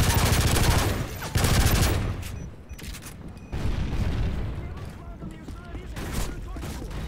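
Sentry guns and other gunfire rattle in the MW3 Overwatch survival game mode, dense bursts of automatic fire with heavy booms, fading and returning across the stretch while a player talks over it.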